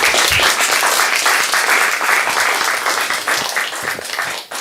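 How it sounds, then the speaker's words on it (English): A room of people applauding student organizers at the end of a law conference session, loud and full, many hands clapping together before thinning and tapering off at the very end. "let's give them one more round of applause"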